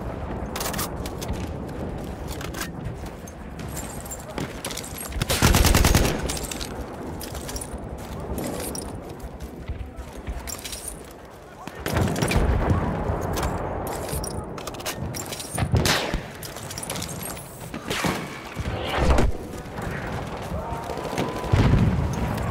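Bursts of machine gun fire and heavy booms in Battlefield 1 combat, loud irregular volleys breaking out repeatedly over a dense battlefield din, with occasional voice lines underneath.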